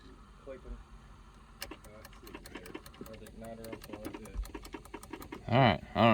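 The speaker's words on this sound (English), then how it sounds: "This relay's clicking." A starter relay on a car sitting at 11.8 volts clicks over and over in a fast, irregular rattle, close up and moderately loud, with a few people talking over it.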